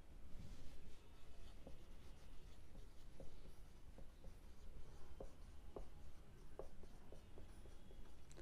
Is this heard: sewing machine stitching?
no